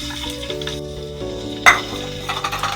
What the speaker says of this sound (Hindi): थोड़ा सा तेल गर्म हो जाए तो इसमें लहसुन शामिल कर देंगे